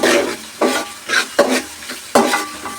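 Chicken for biryani frying in hot oil over a high flame, with several bursts of scraping as it is stirred over a steady sizzle, close and fairly loud.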